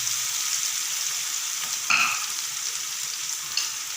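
Ginger garlic paste sizzles steadily in a hot pan, a constant bright frying hiss with one brief stirring scrape partway through and a small knock near the end.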